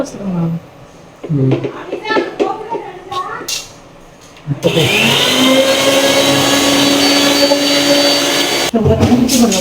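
A kitchen mixer grinder whirs steadily while grinding coconut, a loud continuous motor drone that starts abruptly midway after a stretch of household voices and clatter, then cuts off near the end.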